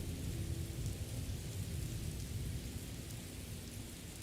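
A lightning storm in the Morrowind game world brings steady rain hissing over a deep, continuous thunder rumble, constant and even, heard alone without speech.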